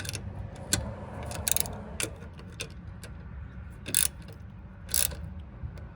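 A ratchet clicks in short irregular bursts while a 10mm bolt is tightened on a Monroe Quick Strut on a 2007–2011 Toyota Camry, close and crisp over low background hum.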